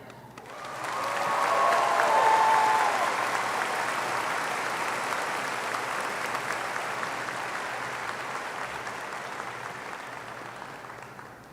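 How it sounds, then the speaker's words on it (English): A high school graduation audience breaks into sustained applause that swells quickly, peaks, then holds as a broad, steady wash of clapping from a large crowd in a hall. "another big round of applause"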